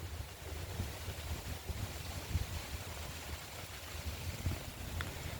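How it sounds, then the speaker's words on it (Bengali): Strong wind blows through an outdoor park, buffeting the microphone with a continuous low, rumbling roar that swells and gusts irregularly without pause. "আজকে অনেক অনেক বাতাস"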